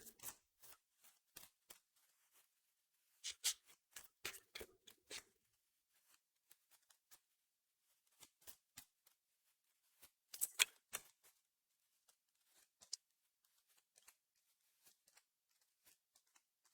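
Tarot cards shuffled by hand during a pick-a-card reading, heard as quiet bursts of papery riffling and flicking, with a busier stretch around the middle and sparse taps and slides between, no talking.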